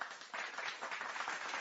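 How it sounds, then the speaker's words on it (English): A short, faint applause sound effect plays on its own as a brief burst of steady crowd clapping lasting under two seconds. "we have a little applause, or we have an applause like yay"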